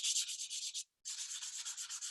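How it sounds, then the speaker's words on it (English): Small pieces of sandpaper rubbed rapidly back and forth, a close, bright rasping in a steady rhythm of quick strokes with one brief pause midway. "could do the whole project with these 3 small pieces of sandpaper"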